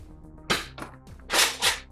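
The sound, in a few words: Nerf Modulus Longstrike CS-6 blaster firing a shot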